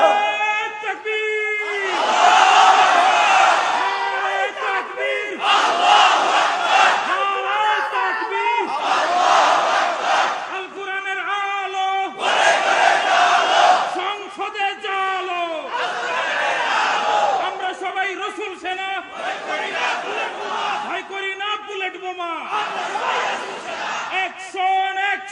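A large rally crowd roars in repeated bursts of loud collective chanting, each shout swelling and falling in a steady call-and-response rhythm over about twenty-five seconds.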